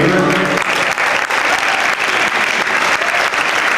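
Audience at a 1998 Helias high school football state championship award ceremony applauding steadily, a dense sustained clapping that briefly overlaps a voice at the start.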